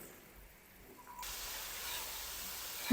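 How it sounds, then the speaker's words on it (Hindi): Spice masala roasting (bhunai) in hot oil for a ridge gourd (turai) curry, a steady close hiss and sizzle that swells about a second in and then holds evenly to the end. "तो जल्दी से ना मैं मसालों की बुनाई कर लूँ 5 मिनट तक"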